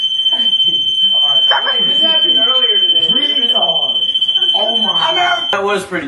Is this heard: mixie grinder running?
no